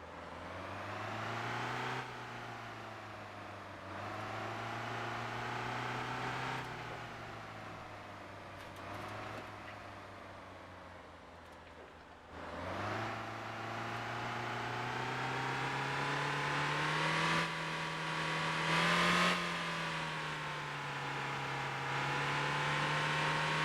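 Bus engine in the Motor Town driving game, a steady mid-pitched drone with rising and falling harmonic tones as it shifts and accelerates, loud and continuous throughout with no talking.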